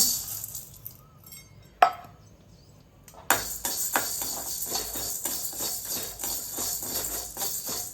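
Washed black urad dal being dry roasted in a pan: after a few isolated knocks comes a steady hiss of sizzling moisture with rhythmic scraping strokes of a spatula, close and continuous, no talking.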